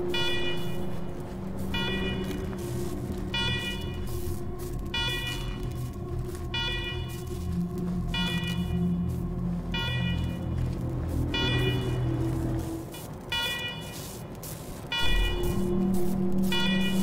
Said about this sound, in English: Let's talk after you kill the alarms.